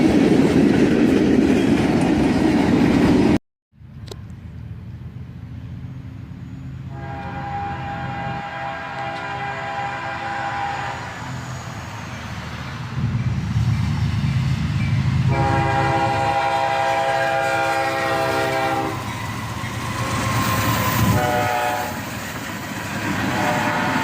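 A freight train led by an ES40DC and a flared-radiator SD90MAC rumbles past close by, with a loud horn sounding twice in long blasts over the steady roll and clatter of the cars.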